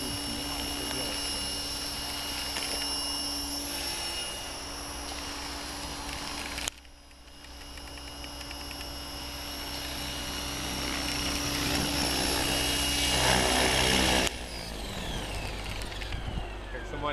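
A Golden Lion 550 RC helicopter running on a 4000 mAh battery comes in to land, its close rotor and motor hum steady and whining. The sound dips briefly, then rises again, while people talk nearby.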